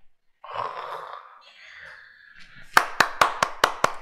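During a CAD commands lesson, hands clap six times in quick, even succession, close and distinct, after a stretch of soft voice-like murmuring and breath.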